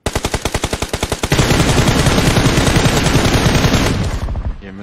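Loud automatic gunfire in a battle royale video game: a rapid rhythmic burst of shots, then a dense continuous stream of fire that cuts off abruptly near the end.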